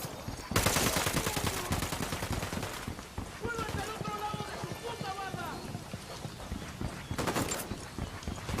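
Gunfire in the video game Ghost Recon Wildlands comes as dense bursts of automatic shots, loud and close. The shooting starts suddenly, thins out in the middle and flares up again near the end, with voices heard between the bursts.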